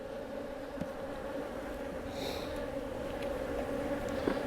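Honeybees at an open beehive with a spotty, shotgun brood pattern, their steady, close buzzing drone running throughout with a few brief louder passes from bees nearby.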